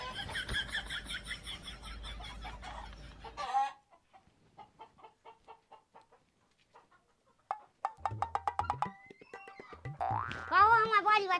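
Chickens clucking in short, repeated bursts, with cartoonish sound effects and a voice alongside, close and fairly faint, with pauses between the clucks.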